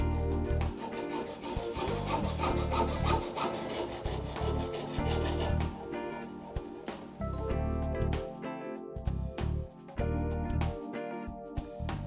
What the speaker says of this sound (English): The cable is cut off perpendicular to the cable axis.